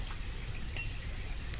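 Steady rain falls in the village-building game Banished, an even, soft wash of drops with no distinct thunder or voices, faint and continuous throughout.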